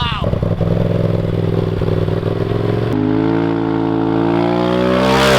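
Polaris RZR Turbo S side-by-side fitted with a loud aftermarket exhaust, its engine idling with a rough, throaty rumble and then rising in pitch as it is revved, close and loud throughout.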